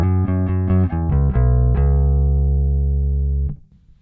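Electric guitar plays a quick run of distorted notes through a JHS Haunting Mids pedal with mids scooped, then holds one sustained chord that rings out before cutting off; thin, hollow midrange.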